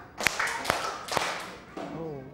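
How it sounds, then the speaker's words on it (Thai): Students in a classroom concentration exercise clap together three times in an even rhythm, three sharp loud group claps, followed by a voice speaking as the room settles. "กลุ่มที่หนึ่งปรบมือสามครั้ง"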